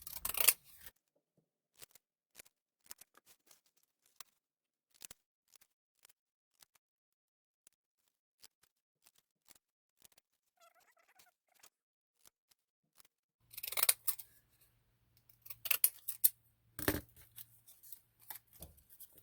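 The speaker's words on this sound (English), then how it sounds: "So just by turning the scissors around, your decorative scissors, you get two different cuts." Decorative craft scissors snip through paper in a quiet room: faint, scattered clicks at first, then a cluster of crisp cutting snips and rustles near the end.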